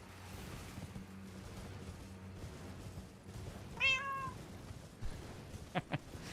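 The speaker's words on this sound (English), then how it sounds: "Meow, meow, meow, meow, meow. That's how you know it's a true cat emergency." A cat gives a single short, clear meow that rises and falls over a low background hum, followed a moment later by a few faint clicks.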